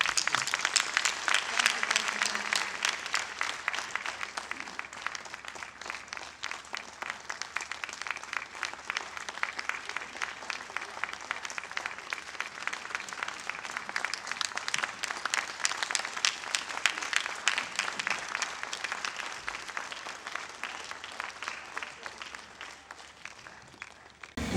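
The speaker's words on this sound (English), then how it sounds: "May we please give them a round of applause." An audience at a closing ceremony breaks into a sustained round of applause, with dense, steady clapping from many hands that swells slightly in the middle and carries on for over twenty seconds, with no voices on top.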